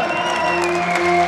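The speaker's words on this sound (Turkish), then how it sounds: "Damadı bir alkış gelsin bakayım." Brief burst of crowd applause for a groom at a wedding celebration, steady clapping close by with no talk over it.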